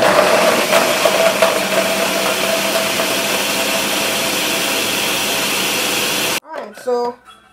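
A blender whirs loudly and steadily as it blends coconut pieces with water, then shuts off abruptly, and a voice speaks briefly afterward.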